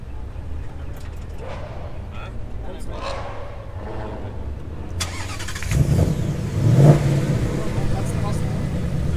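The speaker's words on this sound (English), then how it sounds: "We got the new Corvette. I think we're gonna get a nice cold start. V8, naturally aspirated." A Chevrolet Corvette's naturally aspirated V8 cold-starts partway through, firing up with a loud burst and a rising rev before settling into a steady rumble, while people talk and car-show crowd noise runs throughout.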